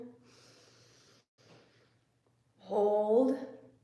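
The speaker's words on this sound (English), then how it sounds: "Breathing in." Slow, deep inhalation during a guided shoulder-relaxation meditation, soft and close, with a quieter breath earlier and a louder, rushing intake near the end.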